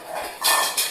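Dishes and cutlery being handled in a home, with short bright clattering bursts close by against a hissy background.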